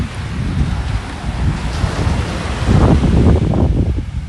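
Ocean surf rolls onto the sand at Laguna Beach while strong wind buffets the microphone, a loud continuous rumbling wash that swells slightly toward the end, with no talking.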